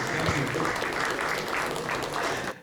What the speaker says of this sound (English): Manish, you can tell them to clap now.